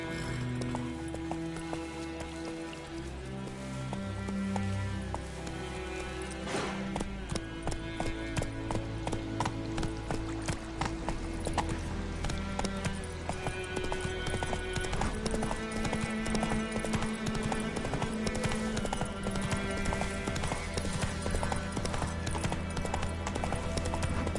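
The horse Roach in The Witcher 3 gallops steadily, its hooves keeping a fast, even clip-clop rhythm over a loud game soundtrack with a brief whinny, and no voices.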